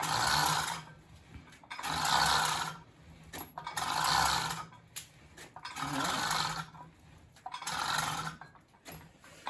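Rhythmic whirring bursts of a T Green & Son Multum in Parvo push reel mower rolling, five surges about two seconds apart, each a spinning clatter of blades.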